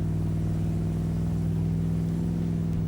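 A big Chevy car at a burnout competition, its engine holding a loud, steady, droning rev with a strong low hum that barely changes across the moment.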